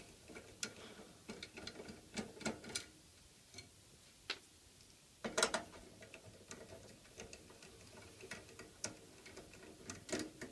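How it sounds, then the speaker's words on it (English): Screws being undone from a computer CPU cooler and fan give faint, irregular ticking and ratcheting clicks, close but quiet, spread out with small gaps between them. "and then start to unscrew it. Four screws again."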